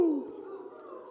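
A single voice imitating an owl's hoot gives one drawn-out, falling "woo" that starts sharp and trails off softly over about a second.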